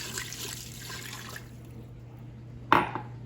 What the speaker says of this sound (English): And now let's add 2 cups of water.